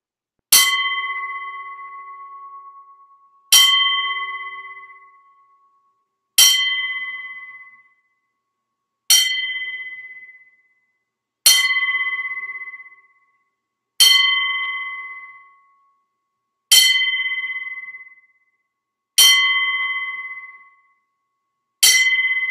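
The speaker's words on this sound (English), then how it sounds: "we're going to give Brian Chichek a 10-bell salute" Ten strikes of a bell sound for a ten-bell salute at a wrestling memorial. Each bright, ringing clang is evenly spaced about two and a half seconds apart and decays into silence before the next, with no talk.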